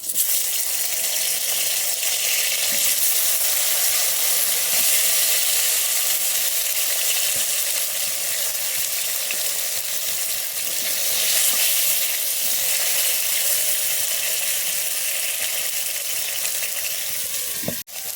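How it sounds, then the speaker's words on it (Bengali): Washed rice fries in hot mustard oil with mustard seeds, a loud, unbroken crackling sizzle close by with faint stirring underneath. "সর্ষের তেল দিয়ে সর্ষে ফোড়ন দিলাম, এবারে চালটাগুলো ধুয়ে দিয়ে দেবো, চালটাগুলো ভাজা হবে"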